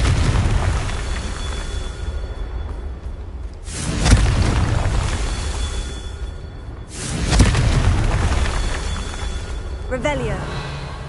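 Confringo spell blasts in the video game Hogwarts Legacy make two heavy booming explosions several seconds apart over a dense rumbling game background, with a voice calling out in between.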